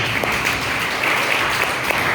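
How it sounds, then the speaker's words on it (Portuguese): A church congregation applauds during a Portuguese-language evangelical service, a steady wash of many hands clapping at once, fairly loud and continuous. "Você pode aplaudir a Jesus?"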